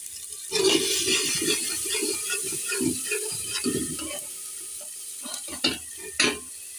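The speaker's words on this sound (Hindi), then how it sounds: "तो इसमें हम थोड़ा सा पानी ऐड कर लेंगे ताकि हमारे टमाटर अच्छे से गल जाए।" Water added to a pot of frying tomatoes with salt, producing a hissing sizzle and stirring scrapes, followed by a few sharp clinks of the spoon against the pot, close and moderately loud.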